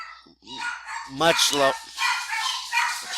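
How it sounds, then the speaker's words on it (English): Several dogs bark loudly and close by in a home, giving a quick cluster of sharp barks with some yips, under and between a man's speech. "Sorry about my dogs. They seem to want to bark all of a sudden."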